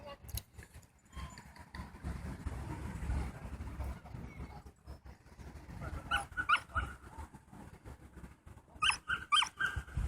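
Dogs whimper and give short barks nearby while running past during long-lead dog training, with jingling tags and scuffling movement coming in bursts, louder toward the end.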